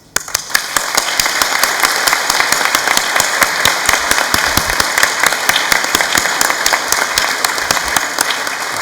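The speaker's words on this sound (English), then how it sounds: "So please join me in applauding all those people who have helped you in this achievement." A large crowd at a graduation ceremony breaks into loud, sustained applause, many individual claps standing out crisply within the continuous roar for nearly nine seconds.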